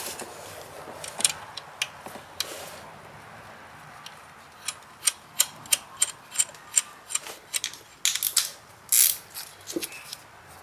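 A ratchet tightens the lower bolt on a 2002 Ford Taurus during a fuel injector repair, giving a quick run of close, crisp clicks in bursts, with a few scattered metallic taps before.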